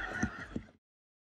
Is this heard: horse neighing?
yes